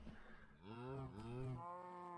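Minecraft cows lowing in a farm barn, a couple of drawn-out moos overlapping in a steady blocky-game ambience, close and clear with no talk.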